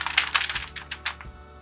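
Candied pecans tipped out onto a parchment-lined cookie sheet make a quick run of light, dry clicks and rattles, several small clustered taps over under two seconds, close and fairly quiet.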